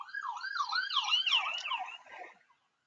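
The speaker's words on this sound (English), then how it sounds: "that was an ambulance going by the way" Ambulance siren passing by, a wailing, rising-and-falling tone heard at moderate distance that fades out within a few seconds.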